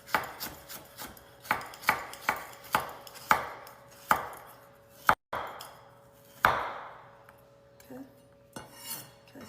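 Carrots being chopped on a cutting board for chicken katsu: sharp, close knife strikes in a steady rhythm, slowing later into a few spaced chops.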